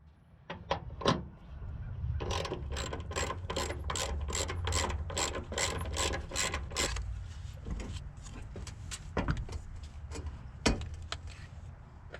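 A hand ratchet loosening the battery hold-down in a car's engine bay, ahead of swapping a 9006 headlight bulb, rattling in fast, close clicking runs with short pauses and a few sharper clunks.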